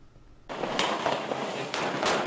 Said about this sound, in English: Gunfire amid the high tourist season in Odessa